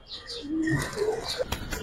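Pigeons, giribaz and coloured birds kept at a loft, coo softly in a few low, throaty rolls, with light chirps and rustling nearby.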